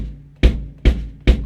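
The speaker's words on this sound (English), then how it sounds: "its sound is produced by hitting it with the bass drum pedal" Three deep, booming bass drum strikes from a foot pedal on a drum set, evenly spaced and close, each a thumping low punch that decays quickly, with no speech.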